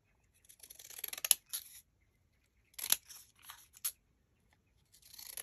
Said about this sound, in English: I'm gonna give it a little trim down.